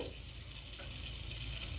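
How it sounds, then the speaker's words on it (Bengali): Whole cumin seeds and spices sizzle steadily in hot oil and butter, a soft continuous frying hiss with light stirring, close and fairly quiet, no voices. "গোটা জিরে ফোড়নে দিয়ে দিলাম। দিয়ে ভালোভাবে তেল আর বাটারের মধ্যে মিশিয়ে নিচ্ছি।"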